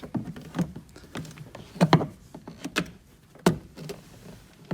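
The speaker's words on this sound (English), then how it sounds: "Just pry up in there, and again you will hear the tabs popping off." Sharp plastic pops and clicks come in irregular bursts as trim clip tabs pry off inside a 2015 Chevrolet Spark, several snapping close by with quiet scraping in between.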